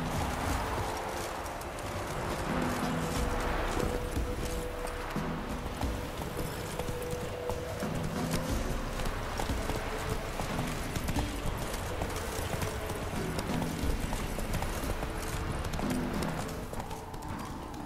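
Hooves of Geralt's horse Roach in The Witcher 3 clop steadily throughout, a continuous walking-to-trotting rhythm mixed with game ambience and a faint snort or whinny.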